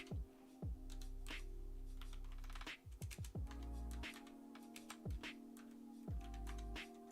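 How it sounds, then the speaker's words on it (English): Typing on a computer keyboard with one hand, irregular clusters of soft key clicks and taps close by, broken by short pauses, with a low steady hum underneath. "I am not quick in typing this with one hand"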